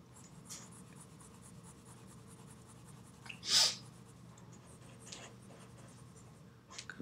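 Pencil softly shading and blending a drawing of a Monopoly iron game piece, a faint, continuous scratchy rub on paper, close and quiet, with a brief louder breath or sniff midway.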